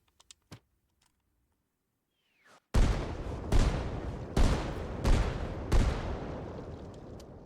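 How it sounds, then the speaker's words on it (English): A small mortar barrage in Arma Reforger: after a few faint distant thumps, five loud, sharp impacts land at roughly regular intervals, each followed by a rumbling decay. "Here's small mortar barrage."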